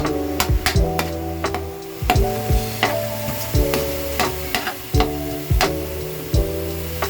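Chopped garlic browning in oil in a pan, a sizzle under repeated sharp knocks and scrapes of a utensil against the pan at an irregular rhythm; no talking.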